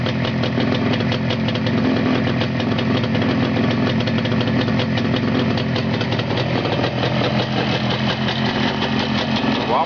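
A chainsaw engine with a newly fitted chain and bar runs steadily at idle, a continuous close mid-pitched engine drone lasting the whole stretch.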